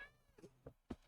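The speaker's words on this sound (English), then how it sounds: "We have a cat." A pet cat meows indoors, three short separate meows rising in loudness, close and fairly quiet with no talk.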